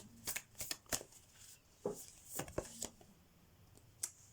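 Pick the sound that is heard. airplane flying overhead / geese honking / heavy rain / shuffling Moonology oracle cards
shuffling Moonology oracle cards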